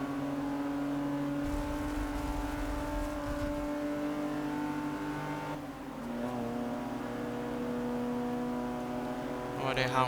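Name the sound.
1982 Porsche 911 Turbo engine racing in Forza Motorsport 6 video game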